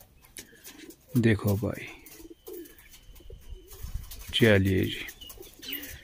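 Pigeons coo in low, throaty bursts, two clear rounds of cooing with someone talking briefly between and over them.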